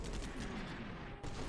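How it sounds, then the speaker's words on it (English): Dense gunfire from the military video game Combat Mission Shock Force, heard as a continuous rattling fusillade with a mortar barrage, faint and distant and without speech. "Heavy gunfire is just... Oh no, that barrage is still coming in."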